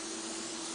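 A touch-up spray gun dusts a heavier coat of pearl paint near a wheel well, a steady loud airy hiss over a brief moment with no voices.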